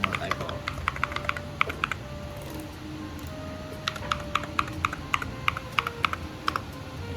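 Quick bursts of typing on a computer keyboard as a name and password are entered into a website login, crisp close key clicks in uneven clusters over a faint hum, with a low voice speaking briefly.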